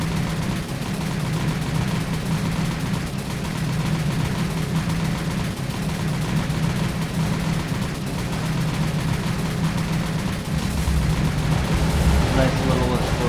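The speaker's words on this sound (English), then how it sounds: "nice little explosion there." Naval gunfire and explosions from the War on the Sea video game rumble in a dense, continuous barrage of thuds and booms, with a brief heavier burst near the end.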